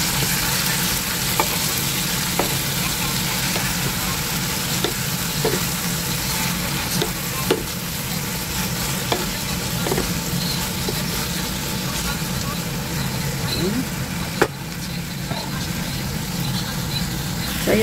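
Bitter gourd (ampalaya) sautés with tomato in a hot pan, giving a steady close sizzle broken by occasional light spatula scrapes and clicks, with a voice now and then.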